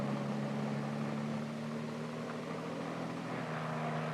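Hiller H-23 helicopter running steadily with a continuous droning engine-and-rotor hum, even and sustained at moderate distance throughout, with no speech.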